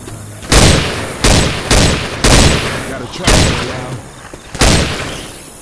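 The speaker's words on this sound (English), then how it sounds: "Grabbing some frag rounds. Deploying frag rounds." Frag rounds fire in bursts in Left 4 Dead 2, about six loud, sharp blasts at irregular intervals, each followed by a short rumbling tail, with no talk over them.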